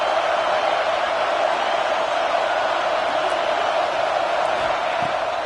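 Stadium crowd noise from College Football 26 during an LSU vs Penn State game: a loud, steady roar that holds without a break throughout.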